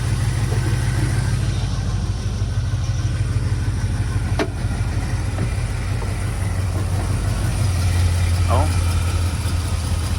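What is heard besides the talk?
1978 GMC truck engine running and idling after jump start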